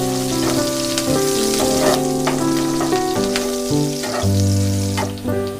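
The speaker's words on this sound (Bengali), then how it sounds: "পাঁচ ছটা লঙ্কা কুচি দিয়ে দেব।" Chopped green chillies hit hot oil alongside minced ginger, giving a loud, steady close sizzle and crackle with a few sharp spatula clinks and a tonal hum running underneath.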